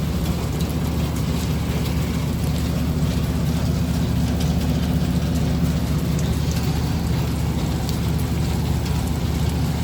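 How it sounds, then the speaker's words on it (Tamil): Heavy summer rain pouring down in Saudi Arabia, a steady dense roar of drops drumming on surfaces, loud and continuous throughout with no pauses. "காலையில் எழுந்தோடனே செம்ம மழை."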